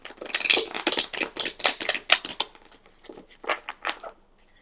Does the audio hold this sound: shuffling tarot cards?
yes